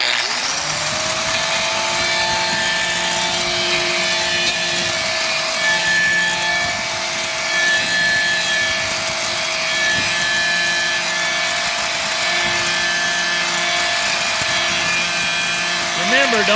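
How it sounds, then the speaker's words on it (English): Angle grinder smoothing the rough cooking surface of a cast iron skillet, a steady high motor whine with continuous abrasive rubbing throughout, close and loud, with occasional talk over it. "Just let the weight of the motor, the weight of the angle grinder, do the work for you."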